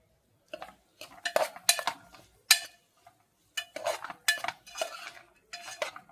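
A spatula stirs carrot fry in a metal pan in a small bachelor kitchen, scraping and clinking in irregular bursts with short pauses between, close and fairly clear with no talk.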